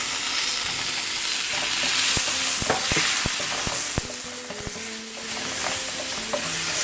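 Chopped tomato frying with turmeric, cumin, coriander and red chili powder in a pan, a dense loud sizzle with scattered sharp crackles and spatula stirring scrapes, close and continuous.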